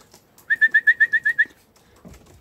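Posta pigeon, a Turkish breed, calls from the coop in a quick run of about eight even, whistly notes, close and fairly loud, followed by a faint rustle.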